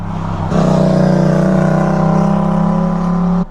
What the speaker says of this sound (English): a loud motorcycle came past